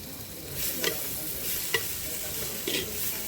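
Chopped fenugreek leaves get stirred into chicken in a frying pan, a soft continuous sizzle broken by three scraping strokes of a spoon across the pan, close and fairly quiet.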